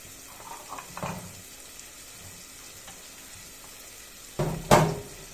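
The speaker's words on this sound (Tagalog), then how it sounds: "Gisa muna natin para masarap." Sautéing in a pan for chicken sinampalukan: a soft, low sizzle with occasional light clinks, then a loud burst of sizzling as food hits the hot pan near the end, close by with no talking.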